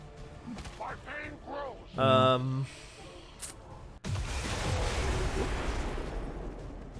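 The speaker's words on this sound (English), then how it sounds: "Explosion draws more of them closer." A loud, sustained explosion blast with a broad rumbling roar in the video game XCOM 2: War of the Chosen, erupting suddenly after a stretch of game sounds and lasting several seconds.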